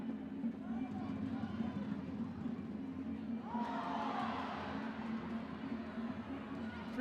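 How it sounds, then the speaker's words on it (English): Soccer stadium crowd at a Northern Super League match between AFC Toronto and Halifax Tides FC lets out a swelling ooh and ah midway, over steady crowd rumble, with a commentator talking throughout. "you heard the ooh and ah from the crowd"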